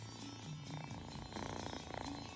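A pet cat purrs softly and steadily close by, a low, even rumble with no talking.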